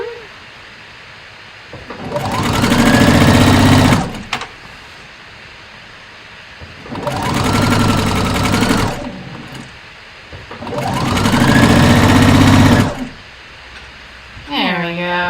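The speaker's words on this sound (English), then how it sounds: "And then finish stitching wherever you started. I just run it over," A sewing machine stitches a ruffle sleeve top in three sustained runs of about two seconds each, loud and close, with quiet pauses between the bursts.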